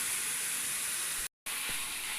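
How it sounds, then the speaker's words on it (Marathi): Safflower greens (kardai bhaji) sautéing in a pan over a low flame, giving a steady, even hiss and soft sizzle throughout, broken once by a brief gap of silence. "आणि आता मंद आचेवरच तिला आपण परतून घ्यायची."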